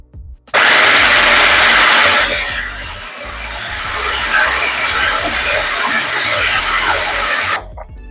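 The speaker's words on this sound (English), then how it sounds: "Okay, so I'm going to mount the blender" A blender loudly mixing herb pizza dough, a harsh whirring roar that starts abruptly, holds steady for about seven seconds, then cuts off.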